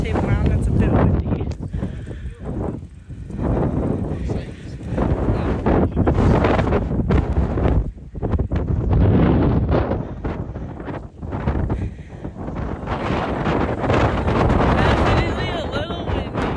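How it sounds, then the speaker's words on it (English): Strong gusts of wind on Table Mountain buffet the microphone in loud, rumbling surges that rise and fall for the whole stretch, with a voice faintly underneath at times. "Just started hiking the Table Mountain. That's a bit windy."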